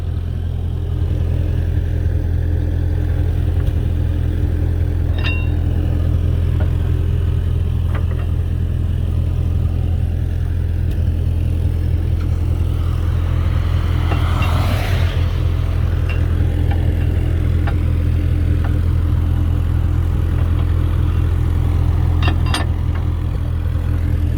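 Old Massey Ferguson TO35 tractor engine running steadily with a loud, deep low rumble throughout, holding an even idle with little change in pace.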